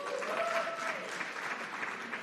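Audience at a live event at Norfolk State applauding, a continuous wash of many hands clapping at moderate distance, with a faint voice briefly audible over it.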